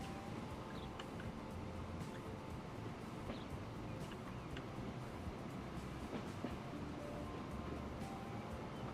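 A steady rolling rumble of a video game train (Transport Fever 2) on rails with faint clicking, continuous and even throughout, no voices.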